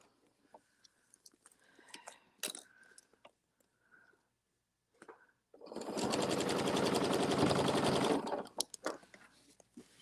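A sewing machine stitches in the ditch across a quilted placemat, a dense steady whirring run of about two seconds after scattered handling clicks and rustles, close and fairly loud, with no talking.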